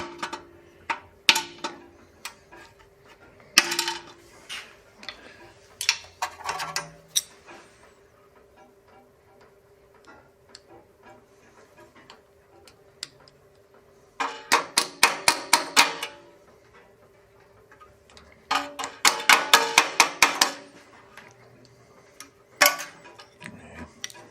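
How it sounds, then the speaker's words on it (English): Sharp metallic taps and bursts of rapid hammer strikes ring out in a garage as old VW intake manifold seals are knocked out, arriving in irregular clusters separated by quiet pauses. "Sometimes they'll just pick right out. Sometimes you got to stab at them with a hammer."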